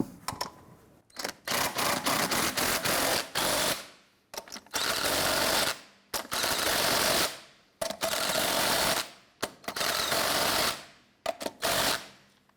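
A power impact wrench drives lug nuts onto a 1999–2004 Jeep Grand Cherokee wheel in a series of loud rattling bursts, each lasting about a second, separated by short pauses, close and with no talking.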